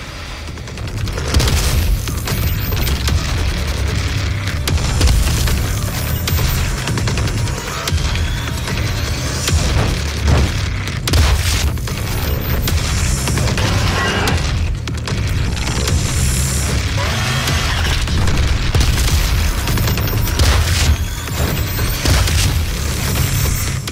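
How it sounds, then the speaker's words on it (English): Grenade explosions in the Doom video game on Nintendo Switch, in the Necropolis level: dense, continuous booming blasts and crackling debris fill the whole stretch, loud and close, with no talk. "Worth me throwing grenades?"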